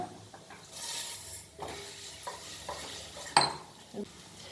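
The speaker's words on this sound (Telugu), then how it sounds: "అదే నెయ్యిలో సేమియా ఒక గ్లాసు వేసే వేస్తున్నాను" Vermicelli frying in ghee in a pan for semiya payasam while being stirred, heard as a soft sizzle with intermittent scraping and a sharp metallic clink of the utensil against the pan.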